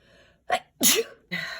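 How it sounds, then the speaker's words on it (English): A person sneezes at an embroidery table, a sharp close burst after a brief intake of breath, followed by a short breathy exhale, quiet otherwise. "I just sneezed all over my things."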